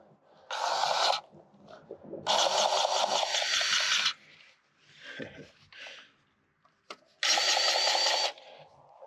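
A grease gun works the grease fittings on a Schulte FX-530 tractor mower, giving three loud bursts of motorized whirring, each about a second long, with quieter shuffling and clicks in between.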